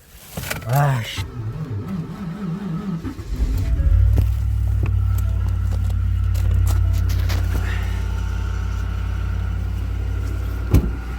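Car engine running in extreme cold, about minus forty-eight, a steady low rumble settling in after a rough start, with someone talking over it.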